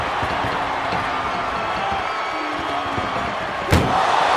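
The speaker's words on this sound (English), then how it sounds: "Trying to at least slam one door shut." A single loud slam of an ambulance door in the wrestling game WWE 2K25, striking sharply near the end over a steady wash of game crowd and arena noise.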